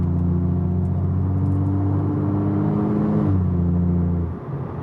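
A BMW M235i with a Fabspeed straight-pipe exhaust drones steadily from inside the cabin, a deep bassy hum that holds level and gently rises before easing off at the end.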